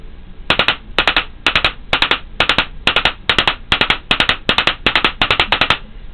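A Spyder VS1 paintball marker fires in three-round burst mode, sharp close bursts of three rapid cracks repeated steadily about a dozen times with short gaps between.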